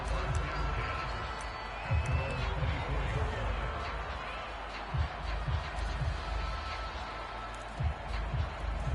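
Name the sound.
home crowd cheering at a football game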